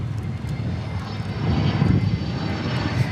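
A Finnair Airbus A321neo arriving from Los Angeles at Dallas Fort Worth airport produces a continuous, fairly loud jet engine roar that swells slightly midway, heard from the ground without any talking.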